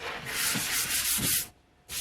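Steady back-and-forth rasp of hand sanding a replica sword before priming, close up, with a short pause before the scraping resumes briefly at the end.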